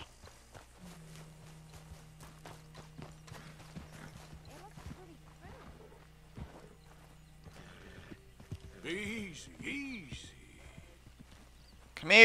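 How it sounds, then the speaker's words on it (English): Horse in the Red Dead Redemption 2 video game, hooves clip-clopping steadily under a long low drone, then a loud whinny near the end, with speech in between. "Come here, you stupid horse."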